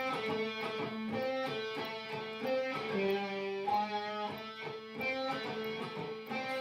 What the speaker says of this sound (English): And we go back to that main riff that we learned earlier.